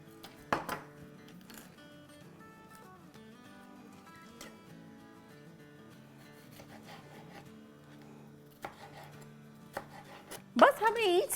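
Knife chopping vegetables into chunks on a cutting board for chicken shish kababs, with a few sharp close knocks early and a quick burst of cuts at the end amid quiet handling sounds.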